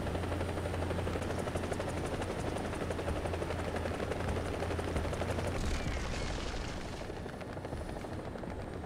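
Huey helicopter in the War Thunder video game coming in to land on a castle tower, rotor thumping loud and steady throughout, then dropping in pitch and easing slightly near the end, with no voices.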